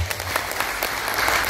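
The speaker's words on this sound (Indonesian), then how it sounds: "Tepuk tangan dulu." An audience at a seminar on an online business bursts into dense, steady applause that fills the short moment, loud and close with no voices on top.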